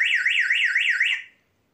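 A homemade bicycle horn gives a loud electronic warble, rising and falling rapidly about five times, then cutting off abruptly after about a second.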